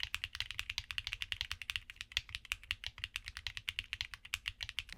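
Typing on Akko Piano mechanical keyboard switches produces a fast, steady stream of crisp close-up keystrokes with even rhythm and no talking.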